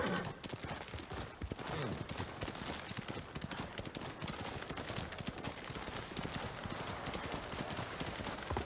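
Horse hooves gallop in Ghost of Tsushima, a fast, dense run of clip-clop beats held steady and close throughout at moderate level, with no voices over it.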